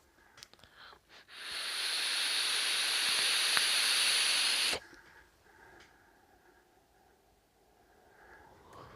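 A long, steady airy hiss from a Fumytech Windforce RTA vaped with the airflow fully open lasts about three and a half seconds during a direct inhale, then cuts off sharply into quiet room tone.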